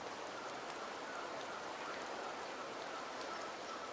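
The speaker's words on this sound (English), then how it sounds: "The rains in Septimont never seem eager to leave this season." Steady rain pours in Septimont in the game Wuthering Waves, a soft, even hiss that holds unbroken from start to finish with no voices over it.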